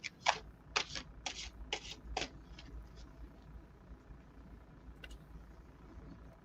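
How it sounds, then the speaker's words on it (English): A deck of playing cards is shuffled in a quick run of crisp riffling bursts, then slows to a few faint flicks and goes quiet, heard close in a quiet room without talk. "now I will shuffle cards"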